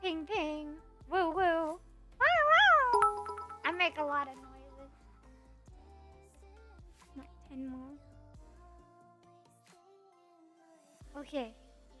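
A human voice imitates cat meows in several drawn-out, wavering cries, mixed with playful vocal noises and quieter talk, close and fairly loud at the start.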